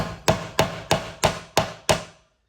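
Six sharp, evenly spaced taps, each with a short ringing decay, as a mechanism part is knocked into the wooden playfield of a World Cup Soccer pinball machine during reassembly, followed by silence.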